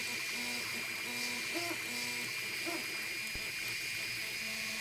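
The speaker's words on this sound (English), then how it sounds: "as you can see, so far the printer seems to be doing a reasonably good job" An Anet A8 3D printer prints a 20 mm test cube, with steady fan whir and shifting, hooting stepper-motor tones that rise and fall in short runs, continuous and close.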